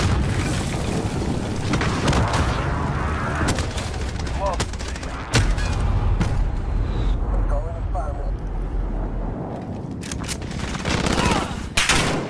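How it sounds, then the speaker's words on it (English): Barrage of precision airstrike explosions and gunfire in Call of Duty Modern Warfare online multiplayer, loud booms and rattling blasts packed densely across the whole stretch, with game voice chatter mixed in. "Precision airstrike on the way."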